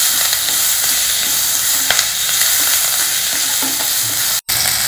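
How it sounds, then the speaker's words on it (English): Carrot, tomato and curry leaves stir-fried in a pot for South Indian sambar rice, giving a steady close sizzle with occasional scraping stirs throughout and a brief gap near the end. "Now stir fry all these vegetables for a couple of minutes."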